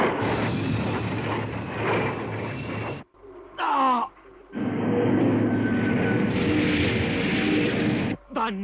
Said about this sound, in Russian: Приготовиться к залпу антипротонной пушкой.